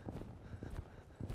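A horse loping to the right, its hooves thudding in a quick rolling clip-clop rhythm, fairly faint and without talk.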